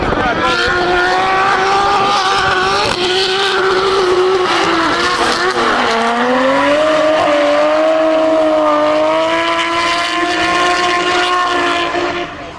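Time attack race car drifting hard through a section after a big clutch kick at about 126 km/h, engine wailing loud and close with shifting pitch and tyre squeal, continuous for the whole stretch.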